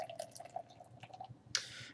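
Rolling Rock, a light 4.4% lager, poured into a glass: soft drips give way to a sudden close, fizzy rush of liquid that keeps sounding steadily to the end, with no talking.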